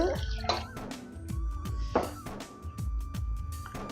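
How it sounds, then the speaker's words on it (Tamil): Water is poured into a pot for a fish and mango curry, and splashy pours and drips come in short bursts close by over kitchen clatter. "தண்ணி கொஞ்சம் விட்டுட்டு"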